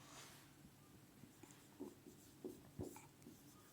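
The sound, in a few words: writing on a board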